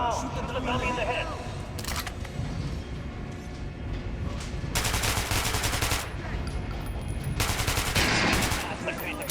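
Gunfire at a training dummy in Metro Last Light Redux comes as loud bursts of rapid shots in two clusters, with game ambience and a voice heard between them.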